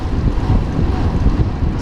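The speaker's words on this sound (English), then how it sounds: "It's very windy." Strong wind buffets the microphone while riding a bicycle uphill, a steady roaring rumble with gusty surges throughout and no other sounds standing out.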